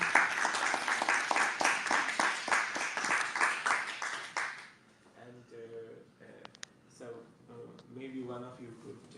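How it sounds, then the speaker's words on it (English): Audience applause at a poetry reading in Boston, a rhythmic burst of clapping for about four seconds that cuts off, followed by someone speaking. "applause."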